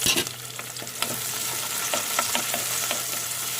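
Pork and tomato for laing sauté in a pan, a loud continuous sizzle with occasional scraping from stirring, heard close up with no talk.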